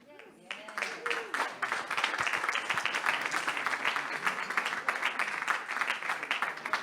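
Applause from a crowd at a women's football summit in Athens during an AI sports demo, dense clapping swelling in after a voice and holding steady, with some voices under it.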